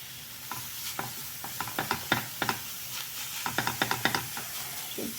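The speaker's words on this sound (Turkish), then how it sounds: "Şimdi karıştıralım." A spoon stirs half-cooked rice in a cooking pot, giving a run of sharp scraping clicks with an irregular rhythm over a soft steady sizzle, close and fairly loud, with no voices.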